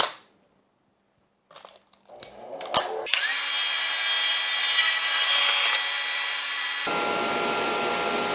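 Table saw blade cutting wood on a crosscut sled: near silence and a few handling knocks, then the saw whines up and a loud steady cutting roar holds for several seconds before easing off.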